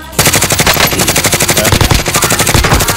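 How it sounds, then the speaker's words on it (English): Rapid machine-gun fire rattles in a video game, loud and close, a dense unbroken burst of shots in fast rhythm that starts abruptly and runs continuously to the end. "They're getting shot at."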